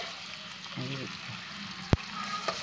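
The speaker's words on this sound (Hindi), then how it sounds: "फिश को फ्राई करने के लिए हमने कढ़ाई ली, कढ़ाई के अंदर हम ऐड करेंगे 1 by 1 करके फिश के पीसेस" Marinated fish pieces fry in a kadai with a steady sizzle, broken by one sharp clack of metal near the two-second mark.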